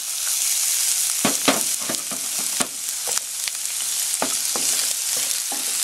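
Onions sauté in a pan of oil with browned garlic, a loud continuous sizzle broken by repeated sharp scrapes and clacks of a stirring utensil at an uneven rhythm.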